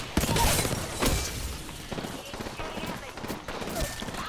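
Gunfire in the battle game Apex Legends comes as rapid, sharp shots and bursts in quick clusters, loud and close, with a player's voice talking over the fight.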